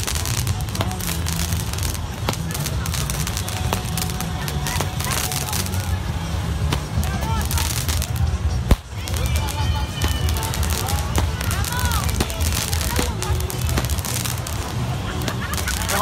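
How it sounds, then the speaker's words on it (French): Fireworks bursting over a beach at a New Year celebration, with scattered cracks and pops over a dense crowd murmur and nearby voices talking throughout, one sharp bang standing out midway. "Les feux d'artifice qui ont débuté maintenant."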